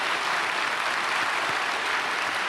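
A church congregation at a Sunday worship service bursts into dense, steady applause, a broad wash of many hands clapping together throughout with no voices above it.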